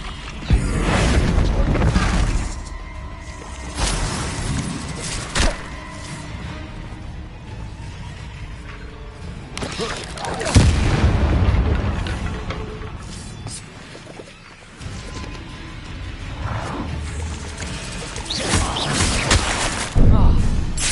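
Repeated Confringo fire-spell explosions in Hogwarts Legacy, loud booming bursts scattered through the stretch over game music and effects, with a voice speaking at times during combat against a giant spider.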